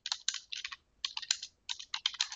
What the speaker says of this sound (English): I'll just start typing in names